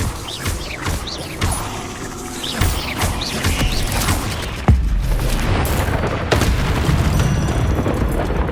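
Incendio fire spells blasting in the Hogwarts Legacy video game, a dense roaring burst with a sharp impact near the middle, layered over continuous game sound and music.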